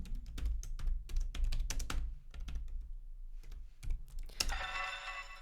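Keystrokes on a computer keyboard clatter in quick irregular bursts with short pauses, close and fairly quiet, ending with a sharper click.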